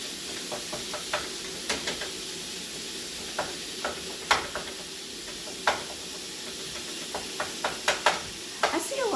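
Meat sizzles with a steady hiss in a frying pan while a utensil breaks it up, sharp knocks and scrapes landing every second or so, close and fairly loud.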